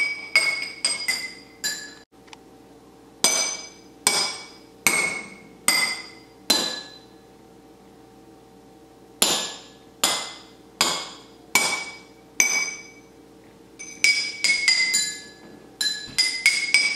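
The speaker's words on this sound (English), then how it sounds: "When we tap the glass, the water inside the glass vibrates." Water-filled glasses are struck again and again, ringing out in bright clinking tones of differing pitch, some taps quick and clustered, others spaced apart with quiet pauses.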